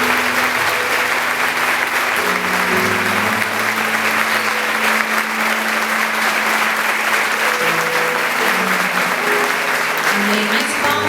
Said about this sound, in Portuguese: Mais palmas para esse casal.